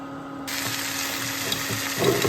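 Steady broadband sizzling and hissing of food stewing in a frying pan, close and moderately loud, with a faint clink near the end.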